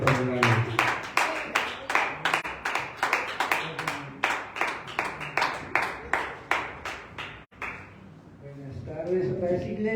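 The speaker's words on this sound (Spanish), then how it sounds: "Vamos a darle un fuerte aplauso a Cristo" A church congregation claps at a Sunday evening service, a strong, regular rhythmic clapping repeated steadily for most of the time before giving way to a voice speaking.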